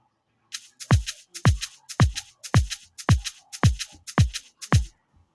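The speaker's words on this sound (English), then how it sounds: "with the kick it will sound like this" An Afrobeat loop of a crisp shaker paired with a deep kick drum, programmed in FL Studio Mobile, repeating in a steady even rhythm of strong low thumps topped by bright rattling hits.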